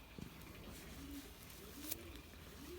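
An old Belgian racing cock pigeon gives thin, rising squeaks in place of a normal coo, several short faint calls spaced apart over quiet background noise.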